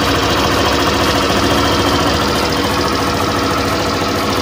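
A small engine, freshly fitted with a new spark plug and a homemade sponge air filter after a tune-up, runs steadily and loudly, a dense mechanical drone with no pauses or talk.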